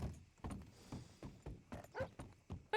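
Rhythmic clip-clop of a horse's hooves in a Red Dead roleplay video game, about a dozen quick thuds in an uneven gallop, with a brief high whinny near the end.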